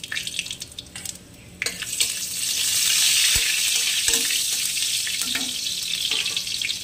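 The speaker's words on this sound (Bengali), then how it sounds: "এবারে দুটো লঙ্কা আর একটু জিরে ফোড়ন দিয়ে দিলাম" Two chilies and cumin seeds hit hot oil for a tempering in a spinach paneer dish, and a bright sizzling hiss builds quickly and stays loud and steady, with a few clinks from utensils.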